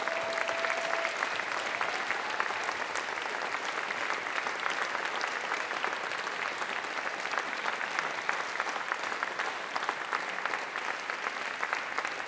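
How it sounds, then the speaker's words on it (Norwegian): A jazz concert audience in Oslo gives the orchestra a long, sustained ovation, dense even clapping that carries steadily and stays loud from start to finish. "så gi dem en utrolig stor applaus"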